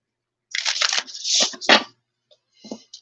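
Tarot cards are shuffled by hand in quick papery riffles and slides lasting about a second and a half, followed by a few faint soft taps.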